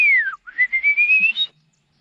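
A single long descending-then-rising whistle, clear and isolated against near silence; a person appears to imitate a whistling kite's call rather than the bird itself calling.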